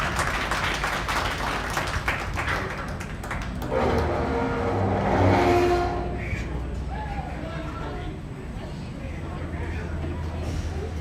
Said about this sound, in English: let's give them all a round of applause for a job well done